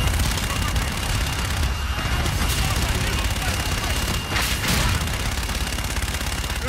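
Gunfire and explosions from a fire mission in the Call of Duty: Infinite Warfare video game roar as a dense, continuous barrage, loud and sustained throughout with no clear pauses.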